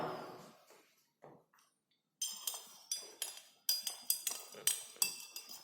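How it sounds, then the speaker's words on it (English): A glass rod taps and clinks against a glass test tube while stirring a solution in a chloride limit test, a series of sharp close clinks in irregular rhythm after a few faint knocks. "you have to mix this with the help of glass rod"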